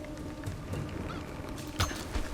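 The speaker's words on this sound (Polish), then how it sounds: "Mogę kuraka zabić? Kurak, nie ruszaj się." A chicken in the Tomb Raider video game gives a few short clucks over a steady bed of in-game ambience, with one sharper squawk near the end.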